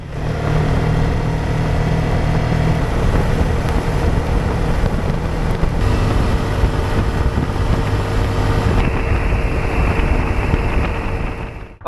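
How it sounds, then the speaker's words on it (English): A motorcycle rides at highway speed in driving rain, with a loud, continuous broadband roar of wind and engine that shifts slightly in pitch throughout, and no voices. "That was 45 minutes of highway speed riding in the rain"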